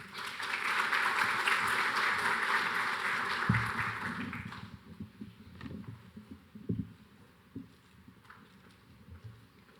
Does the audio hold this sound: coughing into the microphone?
no